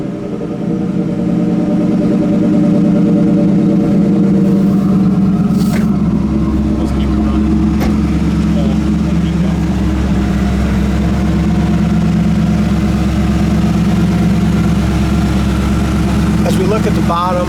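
A 1981 Pontiac Trans Am engine runs at a steady idle through its dual exhaust, a continuous low rumble heard up close, with someone talking over it.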